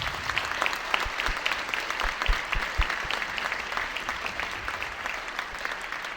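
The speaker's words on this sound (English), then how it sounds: "please give them one more round of applause" Applause from the audience at a 2023 leadership event honoring a group, a moderately faint, sustained round of clapping with individual claps standing out early, steady throughout.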